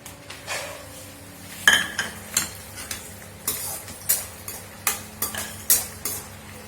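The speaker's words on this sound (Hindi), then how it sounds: "अब मैं मूंगफली तल रही हूँ।" Skin-on peanuts fry in a pan of hot fat, with a soft sizzle under regular metal scrapes and clinks of a spoon stirring against the pan, about one stroke per half second, close and clear.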